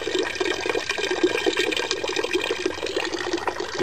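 Rainwater pours steadily through a bucket slow sand filter, a continuous close splashing trickle of draining water that holds an even level throughout with no voices.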